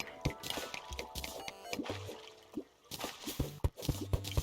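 Water draining into a cave in the video game Terraria, a scatter of soft game drips, plops and liquid squishes in an irregular rhythm, fairly quiet.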